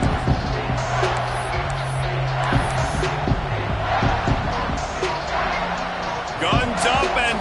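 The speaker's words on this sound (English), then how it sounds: "Guns up, and so is the noise. The crowd electric, trying to help tack on this third down." Stadium crowd roaring at a college football game during a third-down play, a steady loud wash of crowd noise with thumps and bursts throughout, partly under an announcer's voice.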